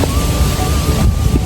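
Strong wind buffets the microphone in a steady roar, with a faint thin tone running underneath.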